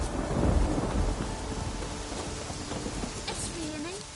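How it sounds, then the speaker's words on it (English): Thunder rumbles loudly at the start over a steady wash of falling rain in The Witcher 3: Wild Hunt, fading into continuous rainfall with faint scattered ticks and patters. "It's raining."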